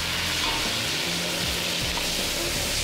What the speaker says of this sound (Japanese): he stir-fried it all in a wok